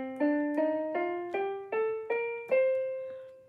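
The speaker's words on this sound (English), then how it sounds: "The C Dorian scale, for example," The C Dorian scale: seven plucked notes climb one by one in an even, unhurried rhythm, each ringing briefly before the next, clear and close with no voices.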